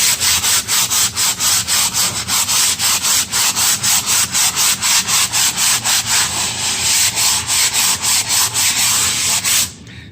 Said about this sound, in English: So the sanding sponge that I was telling you about, like I said, I get a medium grit.